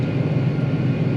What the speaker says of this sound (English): If I can fly this stinking drone